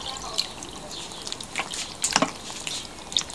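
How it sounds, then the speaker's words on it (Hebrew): Water is poured from disposable cups into a pot, making soft trickles and scattered drips and splashes close by, with a brief fuller pour in the middle. "אני מוסיפה 3 כוסות מים בכוסות חד פעמיות"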